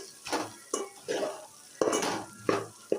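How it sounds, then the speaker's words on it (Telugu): A spoon stirs ivy gourd curry in a pan just after chili powder is added, with repeated scraping strokes and soft sizzling in a steady rhythm, close and fairly loud. "కారం వేసిన తర్వాత ఇలా మిక్స్ చేసుకుందాం."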